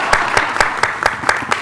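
An audience at an annual meeting claps in steady, evenly spaced bursts, loud and close, with a faint murmur underneath.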